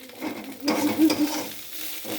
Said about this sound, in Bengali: কাঠখোলায় ভাজছি কি সুন্দর হচ্ছে দেখুন